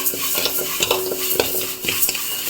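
Rice being stirred and dry-roasted in a pan for homemade masala, with steady scraping stir strokes over a soft continuous sizzle, close and moderately loud, no talking.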